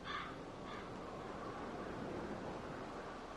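A crow caws twice in The Walking Dead video game, with a short pair of harsh calls early on over a steady wash of wind- or surf-like ambience.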